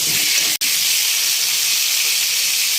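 Potato pieces sizzle loudly in hot oil tempered with nigella seeds for an Indian fish-curry preparation, a steady bright hiss close by with one brief cut near the start.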